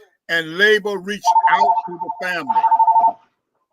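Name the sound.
mobile phone ringing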